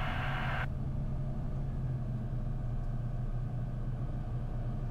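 A small airplane's engine idles steadily before takeoff, giving a continuous loud droning rumble with no break.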